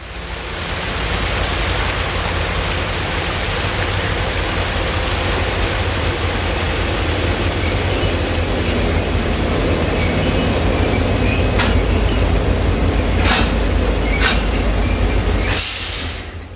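CSX local freight A766 creeps slowly over a creek bridge on the Aloma branch in Central Florida, a steady rumbling roll with faint wheel squeals that holds for the whole stretch before a sharp burst near the end.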